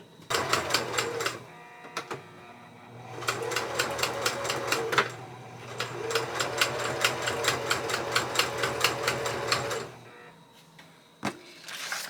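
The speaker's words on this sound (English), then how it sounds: "I sewed the leather and lace onto here, and then I sewed all the way around." Sewing machine stitching leather and lace onto a junk journal, fast rhythmic mechanical clatter in two long close bursts separated by pauses, with a brief whir at the end.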